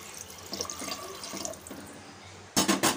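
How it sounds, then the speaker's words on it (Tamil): Water streams and splashes into a cooking pot holding wheat rava and moong dal for a couple of seconds, followed by two sharp clanks at the end. "அதே கப்லேயே 4 கப் தண்ணி எடுத்து வச்சுருக்கோம். உள்ளே ஆட் பண்ணிக்கலாம்."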